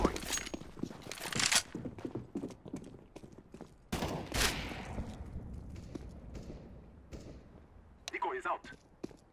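Scattered gunfire and thuds from a decoy grenade in Counter-Strike: Global Offensive on the Mirage map, with irregular bursts of shots and impacts, some sharper and closer, mixed with footsteps and game voice chatter.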